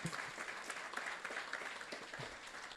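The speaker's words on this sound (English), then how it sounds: "Let's give another round of applause for our Rowdy title sponsor" A hackathon kickoff crowd gives a round of applause to the event's title sponsor. The clapping is faint and scattered, sounding from a distance, and a sharp louder hit lands right at the end.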